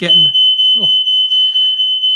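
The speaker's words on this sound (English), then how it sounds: "I think someone set my fire alarm off." A smoke or fire alarm shrills continuously in a home, a steady loud high-pitched tone sounding throughout while people talk over it.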